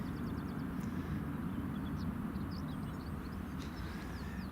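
A Jet2 airliner taxiing at Glasgow Airport makes a steady distant low roar that holds evenly throughout, with faint bird chirps twittering above it.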